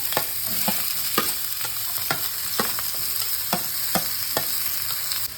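Onion frying in hot ghee for Kannur-style samosa filling, a steady hiss and sizzle broken by regular clicks and scrapes of a spoon stirring the pan, close and fairly loud with no talk.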